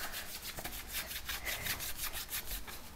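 Hands rub the bottom of a Hatchimals toy egg, a close, steady scratchy brushing in quick repeated strokes with no talk.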